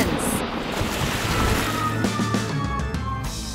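Waves and splashing water during a water battle between a mermaid and a family, a loud rough wash of surf and wind buffeting close to the microphone, with no clear speech.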